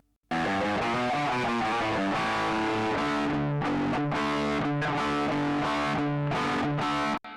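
A heavily distorted electric guitar riff plays loud and continuous, with a thick, dark, low-leaning tone and chugging rhythm.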